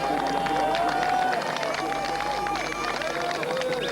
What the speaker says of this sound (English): And the crowd here, an enormous crowd